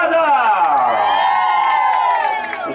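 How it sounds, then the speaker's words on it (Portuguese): Party guests at a friend's birthday celebration in São Paulo's east zone burst into sustained, loud cheering and whooping voices, a dense crowd roar lasting throughout with no distinct clapping standing out. "Palmas pra Amanda!"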